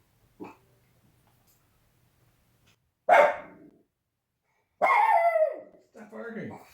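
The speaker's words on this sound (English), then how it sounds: "Stop barking." A dog barking indoors in a few separate bursts: one short yip, then a loud bark, followed by a longer strained bark and a final lower woof, with silence between.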